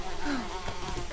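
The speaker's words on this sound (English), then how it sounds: "What about the bees? Yeah, the bees are ready too." Steady insect-like buzzing of bees in the 7 Days to Die video game, a continuous drone with no talk over it.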